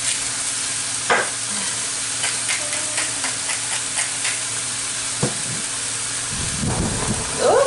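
Courgette frying in a pan is stirred with a faint, steady sizzle and soft scraping strokes throughout, with a few sharper clinks, close and moderately quiet.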